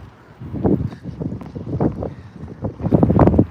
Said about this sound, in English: Oh, the wind is starting. The wind is coming.